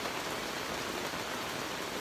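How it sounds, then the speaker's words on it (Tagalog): Heavy rain pours down steadily in an outdoor hunting setting among trees, a dense, even hiss of drops drumming on surfaces with no voices. "biglang bumuhos ang ulan,"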